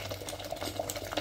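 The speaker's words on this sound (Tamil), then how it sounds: "இப்போ நல்லா ஒரு கலரி விட்டுட்டு இது ஒரு 2 நிமிஷத்துக்கு நல்லா கொதிக்கட்டும்." Raw manathakkali kuzhambu bubbling in a pot, a soft steady simmer with small irregular pops and a faint hiss, heard up close with no talking.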